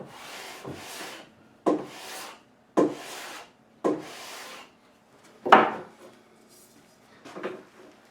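Rhythmic scraping strokes of sandpaper rubbing the wooden neck of a guitar by hand, about seven back-and-forth passes, close and fairly quiet with short pauses between them.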